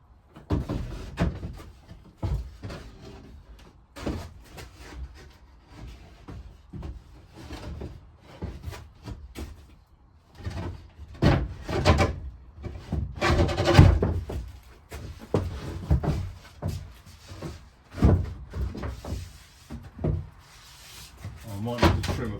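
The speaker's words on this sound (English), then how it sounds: "now to put the electrics cupboard fascia back on" An electrics cupboard fascia panel being fitted back on during a ceiling installation, with repeated wooden knocks, bumps and rubbing scrapes at close range, mixed with intermittent talking.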